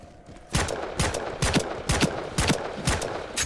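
Gunfire in the video game Ironsight comes as a run of about seven sharp, evenly spaced shots, loud and close, with no voices.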